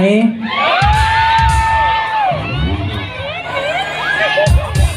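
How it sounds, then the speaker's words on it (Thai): A crowd at a birthday fan meeting shouts and cheers loudly and close, with high whooping voices rising and falling over a dense babble that swells and fades across several seconds. "แต่เมื่อกี้ได้ยินฝั่งนู้นตะโกนลั่นเลยว่าเห็น"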